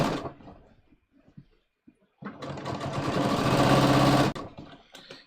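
A sewing machine runs steadily for about two seconds, stitching across a side seam of a pair of jeans, a close, loud mechanical whir after some quiet handling noises.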